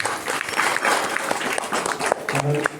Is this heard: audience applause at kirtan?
yes